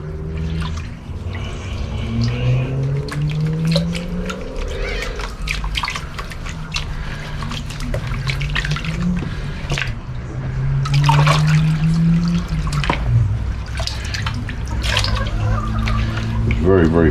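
Water splashing and trickling steadily over gold banded ore as the surface material is washed off, with someone talking over it throughout.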